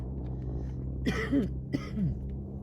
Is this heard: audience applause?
no